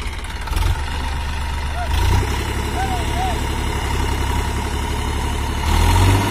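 A Massey Ferguson 245 tractor, a 50 HP 2020 model, runs steadily with its diesel engine at a low idle-like chug, briefly surging louder twice. It is close and continuous, while people talk nearby.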